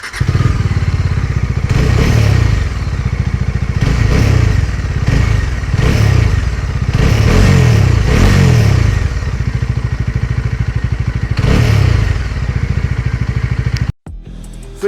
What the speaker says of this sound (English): So this is what the Dominar 250 sounds like.